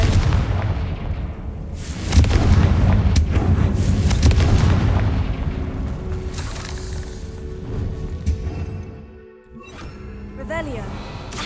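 A Confringo blasting spell explodes in Hogwarts Legacy with a loud, sustained, booming roar that rumbles for several seconds before fading, followed by a brief crackle near the end.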